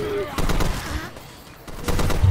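Automatic gunfire bursts in the co-op shooter Death Toll on Expert difficulty, rapid and fairly loud, crackling in two clusters with a brief lull between, while people shout and talk over it.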